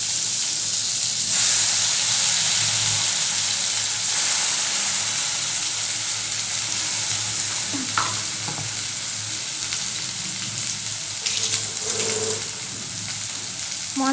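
Spice paste hits hot mustard oil in a pan while cooking paneer masala, producing a loud, steady sizzling hiss that fills the whole stretch, with occasional stirring scrapes and no talk.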